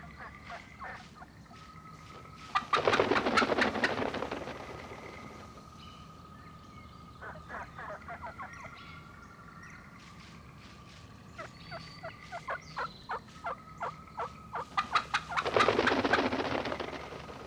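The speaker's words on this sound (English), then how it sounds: "a turkey flock finishes feeding and searches out a roost for the night." A flock of wild turkeys heads to roost around sundown, giving repeated clucks and calls with two louder bursts of wing flapping or flushing as they fly up into trees.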